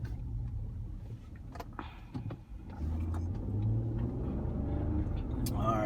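A car being put in drive and pulling away, with a low engine hum that steps up and grows steadier as it gets moving, heard from inside the cabin under a person talking.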